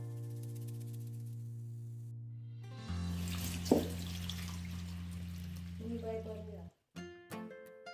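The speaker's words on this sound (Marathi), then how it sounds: "आणि दोन तीन वेळा स्वच्छ धुवून घेऊयात" Takla wild greens, a monsoon-season vegetable, are rinsed under running tap water: a soft, quiet stream of splashing that starts after a low hum, runs for a few seconds, then cuts off, followed by a couple of light knocks.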